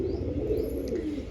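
Kamagar pigeon cooing in a loft, a low continuous murmuring coo close by with faint background noise.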